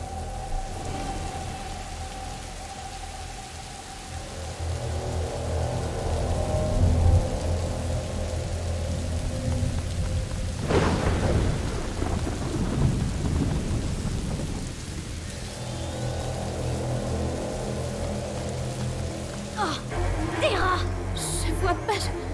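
Rain pours steadily in A Plague Tale: Innocence while thunder cracks loudly at about the midpoint, rolling on under a lightning storm, with a voice speaking over the downpour.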